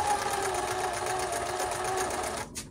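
A Panavox 690 sewing machine stitches in a fast, even mechanical whir with a rapid rhythmic tick, running continuously before stopping at the end.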